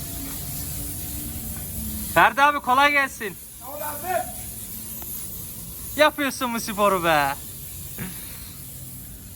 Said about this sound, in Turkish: arabanın altını ilaçlıyor komple